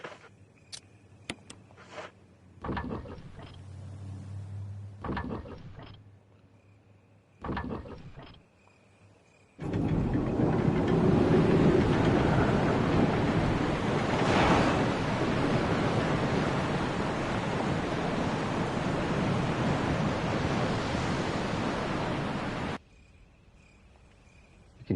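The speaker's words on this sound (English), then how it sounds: "You can hear the sound of a waterfall in the distance." A distant waterfall in the Resident Evil courtyard gives a steady, broad rushing roar for about thirteen seconds, after a few sparse clicks over a quiet hum.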